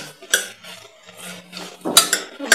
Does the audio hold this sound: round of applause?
no